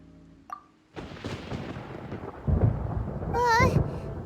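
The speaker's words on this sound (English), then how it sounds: "Paimon hears thunder!" Thunder in the video game Genshin Impact: after a brief sharp crack, a deep rolling rumble builds and keeps growling for several seconds, growing heavier toward the end, with a short tonal warble laid over it.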